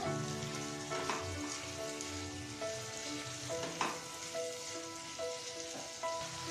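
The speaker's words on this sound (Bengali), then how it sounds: "এবার এর মধ্যে দিয়ে দেবো কেটে রাখা পেঁয়াজ করি সব কিছুকে আবারও খুব ভালোভাবে মিশিয়ে নেবো" Chopped spring onion greens are stirred into sizzling masala for an amudi fish curry, giving a steady, close frying hiss with scraping spoon strokes over a soft, sustained tonal background.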